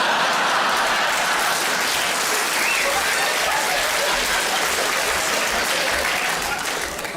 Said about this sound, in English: I don't quite know what that round of applause was for